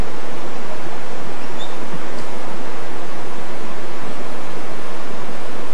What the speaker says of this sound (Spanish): Vemos que a Jonathan le carga el río.